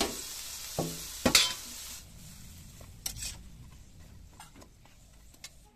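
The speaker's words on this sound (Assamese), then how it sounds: "তেল আৰু পানীত একেলগে এই পটলখিনি এই ধৰণে বুৰাই দিছো" Pointed gourd pieces fry in oil and water with spices, giving a soft, faint sizzle with scattered stirring clatters and a few sharp utensil knocks against the pan.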